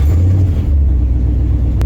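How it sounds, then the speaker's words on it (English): A 1991 Ford F-150 truck engine gives a steady, loud, low rumble close by for the whole short stretch. There is no clear separate cranking burst. "Just about to start the truck, and let's see what happens."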